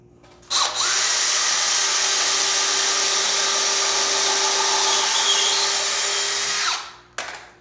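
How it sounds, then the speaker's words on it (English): A power drill drilling a pilot hole in framing whirs steadily at high speed for several seconds, close and loud, then spins down and stops, followed by a brief click. "Now I recommend you drilling first."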